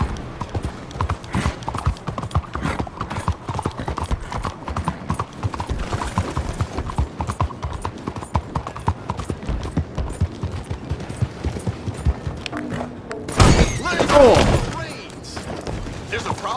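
Horse hooves clip-clop steadily in Red Dead Redemption 2 as the horse is ridden, a continuous close rhythm with a louder crash or burst of noise near the end.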